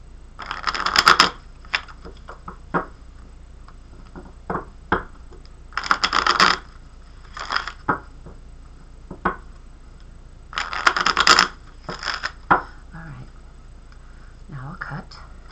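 A deck of tarot cards is shuffled by hand in several bursts of riffling and tapping, with crisp card clicks close by and brief pauses between shuffles.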